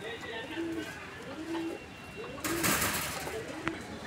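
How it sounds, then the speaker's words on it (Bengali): Domestic pigeons in a breeder's collection coo in soft, low, repeated phrases at moderate distance, with a burst of rustling noise partway through. "দেখছেন সারা কবুতর তো, এই যে দেখেন কবুতরগুলো দেখেন"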